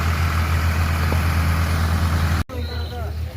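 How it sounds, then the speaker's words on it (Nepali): Slow-running tractor engine at a paddy field during rice planting, a loud steady low rumble that cuts out abruptly near the end, followed by fainter engine hum with some voices in the background. "ट्र्याक्टर पनि साह्रै स्लो चला है यहाँ।"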